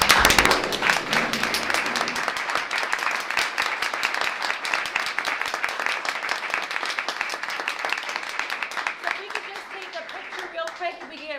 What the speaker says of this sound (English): Let's all stand up and give them a big round of applause.